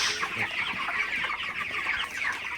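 A dense chorus of 31-day-old broiler chickens clucking continuously from many birds at once at night, close and steady, like a crowded poultry shed, with no talking.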